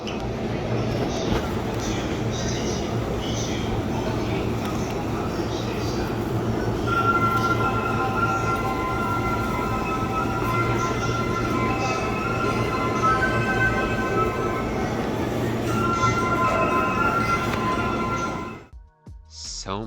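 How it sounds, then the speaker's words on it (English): A train pulls into a station in Japan with a loud, steady rumble of wheels and carriage noise. Sustained high squealing tones from the wheels or brakes come and go through the middle, then the noise cuts off abruptly near the end. "while we wait for the train to arrive"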